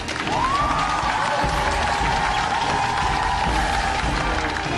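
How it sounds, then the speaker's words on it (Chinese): Studio audience applause on a Chinese television dating show welcomes a guest onto the stage, a full, sustained wash of clapping and light cheering with a sliding tonal sound effect sweeping over it. "来，掌声有请冠冠。"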